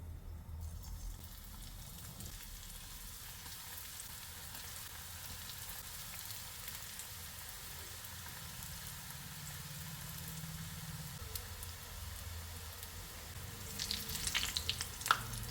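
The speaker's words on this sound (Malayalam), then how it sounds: "വെളിച്ചെണ്ണ ചൂടായിട്ടുണ്ട് നമുക്ക് ഒരന്നിരുന്നിട്ട് വറുത്തെടുക്കാം" Jackfruit seed balls fry in hot coconut oil with a faint, steady sizzle that continues evenly. A few soft clinks and clatters come near the end, with no talking.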